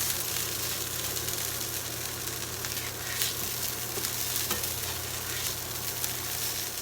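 Hash browns fry in a pan with a steady, dense, close sizzle that holds evenly throughout, with no voices.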